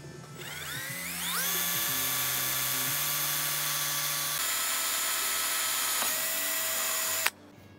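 A power drill bores pilot holes into aircraft stringers, spinning up with a whining, rising pitch that holds a steady high tone for several seconds, shifts slightly, then stops abruptly. No one speaks over it.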